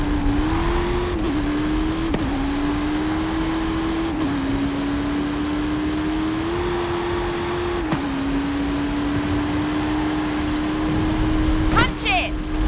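Hot Wheels Twin Mill car in Forza Horizon 5, its engine holding a steady loud drone with small pitch shifts as it revs, continuous throughout, with a brief rattle near the end.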